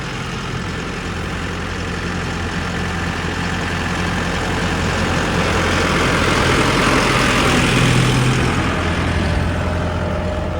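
A tractor's diesel engine chugs steadily at idle, a low throbbing drone that swells slightly near the end, close by with no talking.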